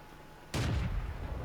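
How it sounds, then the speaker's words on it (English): A single tank cannon blast in World of Tanks, fired from an M3 Grant at long range, lands as one sharp boom followed by a short rumbling decay over quiet background. "Long distance shot, finish off that 127"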